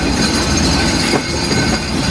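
The Simanta Express passenger train rolls along the rails on a night run, a steady loud rumble with rhythmic wheel clatter and a faint squeal, heard from inside the carriage with no voices.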